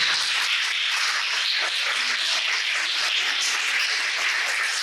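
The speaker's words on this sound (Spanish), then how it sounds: "Dale un aplauso al Señor." A church congregation claps together in sustained applause at a worship service, a dense steady wash of many hands filling the whole stretch with no talk over it.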